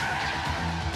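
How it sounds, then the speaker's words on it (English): Tires screech in a sustained, harsh squeal as a car skids, loud and close for a brief moment. "When you hear the screeching tires, you know nothing good comes at the end of it."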